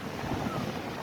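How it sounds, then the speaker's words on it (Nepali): Dangerous, heavy sea waves crash at the shore in a steady, dense roar, with gusting wind buffeting the microphone throughout and no voices. "यस्तो डेन्जर छाल कसम यस्तो डेन्जर छाल यार कसम"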